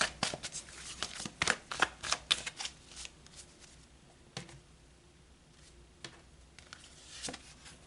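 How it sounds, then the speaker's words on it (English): Tarot cards are shuffled in a quick burst of crisp riffles and slaps, then a quieter stretch of occasional card flicks, close and alone with no talking. "So let's pull more cards."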